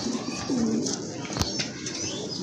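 Pigeons in a fancier's collection coo softly with low, rolling calls close by, over steady background noise, with a brief sharp knock partway through.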